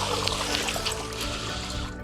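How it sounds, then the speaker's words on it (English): Water drains from a pool filter system through an opened drain plug, a steady close trickle and splatter that runs continuously without a break. "we want to let all that water get out of our filter system"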